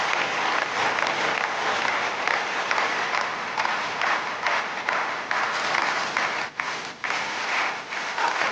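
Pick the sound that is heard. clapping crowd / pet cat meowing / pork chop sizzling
clapping crowd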